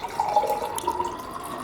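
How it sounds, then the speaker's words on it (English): Tap water runs steadily into a glass at a kitchen sink, a continuous close splashing stream that stays even in level throughout, with no voices. "I picked up a glass and started filling it with water from the tap."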